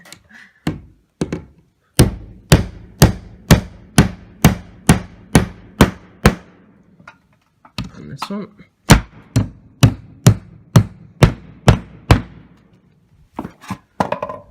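A new Stanley 20-ounce hammer drives nails into wood in two steady runs of sharp, evenly spaced strikes, loud and close, with a brief spoken remark between the runs.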